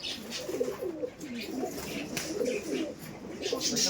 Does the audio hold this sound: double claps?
no